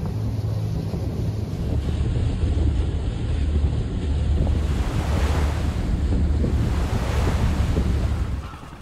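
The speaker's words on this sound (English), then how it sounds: "The lifeboat dances upon the tumultuous waves," A lifeboat on rough, tumultuous sea, with loud, continuous surf and crashing waves mixed with strong wind buffeting the microphone, rising and falling in surges before easing at the end.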